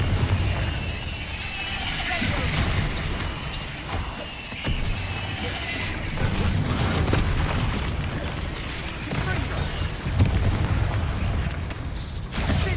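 Confringo fire spell blasts in Hogwarts Legacy, a dense run of booming explosions landing back to back over a loud, continuous rumble of game action.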